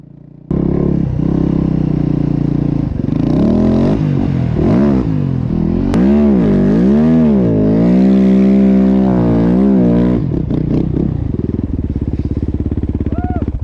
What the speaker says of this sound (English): to just take the snow bike straight up stuff is pretty cool